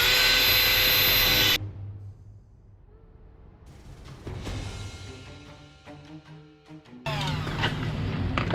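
A Dremel cutting wheel grinds into a swollen lug nut on a Ford wheel, loud whining bursts at the start and end with a quieter stretch of intermittent scraping and clinks between.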